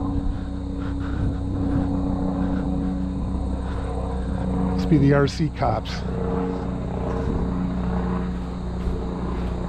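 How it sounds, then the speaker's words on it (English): A low engine drone of a helicopter passing overhead hums throughout, while someone speaks briefly midway and a sharp whine from a Losi 5iveT RC truck rises and falls. "I got distracted by the helicopter overhead here."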